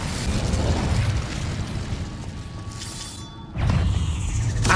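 Fire spell bursts in the video game Hogwarts Legacy, heavy low-end whooshing roars that fill the clip, dipping briefly before a fresh surge near the end.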